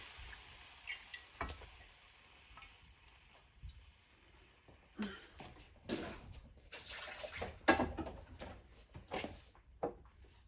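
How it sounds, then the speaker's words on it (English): Diced meat being washed by hand in a bowl of water for a pie filling, with irregular splashes, sloshes and clicks of pieces knocking together, fairly close and moderately quiet. "So I have to demonstrate the way I normally wash my meat."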